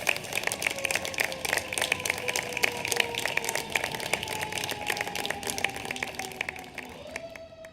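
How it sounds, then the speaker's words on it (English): Audience applause for award recipients at a 2018 event in the Colorado State Capitol: dense, steady clapping from a crowd throughout, continuous and moderately loud, fading slightly at the end. "please join me in giving one last round of applause for the recipients of the 2018"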